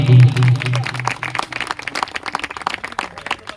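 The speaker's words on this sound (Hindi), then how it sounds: "ताली मारो खुदावंद के लिए।" A church congregation at a Hindi Sunday sermon claps, the patter of many hands rising under a voice and musical tones early on, then continuing as scattered, rhythmic claps.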